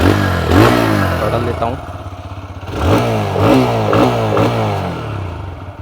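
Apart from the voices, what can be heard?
125cc motorcycle engine idling, exhaust note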